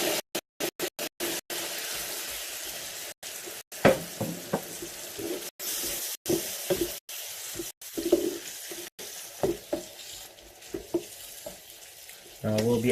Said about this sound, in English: And to this, I will be adding 1 tin of chopped tomato.